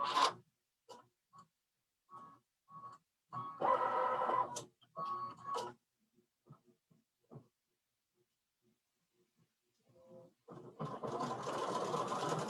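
A Baby Lock IQ Designer embroidery machine stitches an in-the-hoop needle minder, its rapid mechanical chatter running in short bursts separated by quiet pauses and small clicks, close and clear with no talking.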